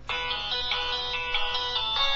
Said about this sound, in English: And then his phone will still be going.